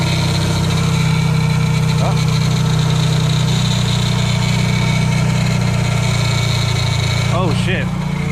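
A Volkswagen Jetta engine idles steadily up close with a constant low drone and a faint whirring from the tensioner pulley. A person speaks briefly over it near the end.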